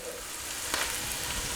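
Softening onions sizzle in a deglazed pan for ranch chicken pasta, a dense, steady frying hiss with a faint stir and no talk.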